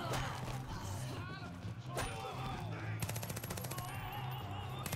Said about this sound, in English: You got a freaking chain gun or something?